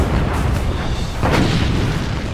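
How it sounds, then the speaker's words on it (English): A battleship broadside from 14-inch naval guns, heard as deep, heavy booms over a constant rumble, with a sharper blast partway through. "We were firing 10 shells at a time. 10 14-inch shells were going all over."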